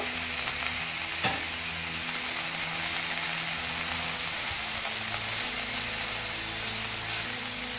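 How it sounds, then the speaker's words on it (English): Moringa leaves with salt fry in a pan for a drumstick-leaf stir fry. A steady, close sizzle runs throughout, with one brief utensil clink early on and no voices. "Add the moringa leaves. Add salt, allow it to cook."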